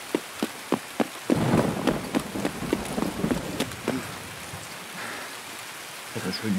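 Rain in the video game Escape From Tarkov patters steadily, with a few sharp clicks at the start and a dense wash of drops through the middle that thins toward the end.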